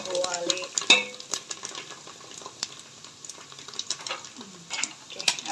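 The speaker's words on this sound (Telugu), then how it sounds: "కరివేపాకు వేసి మంచిగా కలుపుకోవాలి." Curry leaves stirred into a hot tempering in a pan for a dal and rice dish, giving soft sizzling with scattered scrapes and clinks of a spoon against the metal, close and fairly quiet, with no talk.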